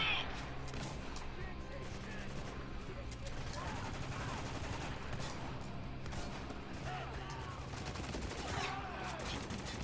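Automatic rifle fire in the video game Spec Ops: The Line comes as dense, continuous bursts of shots over a busy battle din, with a voice talking at times.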